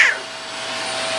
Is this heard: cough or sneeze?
no